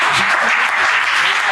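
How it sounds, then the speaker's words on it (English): A crowd claps in a dense, continuous burst of applause, loud and close, with no pauses for the whole short stretch. "They're not clapping for you, they're thanking the Lord."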